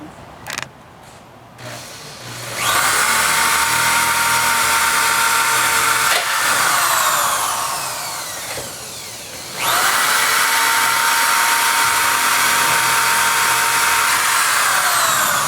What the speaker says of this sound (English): now we're going to go ahead and drill our holes and screw this locking bracket down to the wall